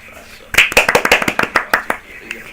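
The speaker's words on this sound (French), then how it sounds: "On applaudit un peu." A few people clap hands in short irregular bursts, roughly a dozen sharp claps over a couple of seconds, close and fairly loud, with voices talking around them during a casual gaming session.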